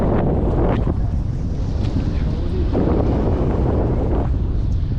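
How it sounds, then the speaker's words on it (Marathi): Strong wind on a creek buffets the microphone with a loud, constant roar while fishing from a boat, swelling in gusts throughout with faint water motion underneath. "आणि वारा आहे ना वारा बरोबर लागतो मित्रांनो"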